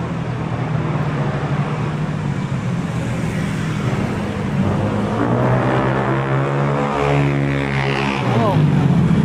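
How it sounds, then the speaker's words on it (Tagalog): Loud motorcycle engine on a Manila street, rumbling steadily close by with traffic noise and a rising, revving tone near the end. "Pwede pala dito sa Maynila ang maingay ang motor."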